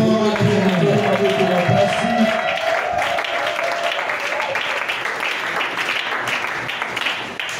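A church congregation applauds and cheers loudly, a dense wash of clapping and voices that starts over fading music and slowly tapers off.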